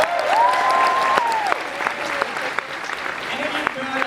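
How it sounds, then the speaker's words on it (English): Loud, dense applause fills a large fan-convention hall, with a voice and a whistle-like tone rising briefly over the clapping. "Give them a round of applause."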